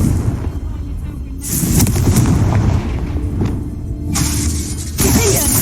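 Confringo explosive spell blasts from Hogwarts Legacy during a dragon fight, loud booming bursts over continuous rumbling battle noise, with a voice calling out spells.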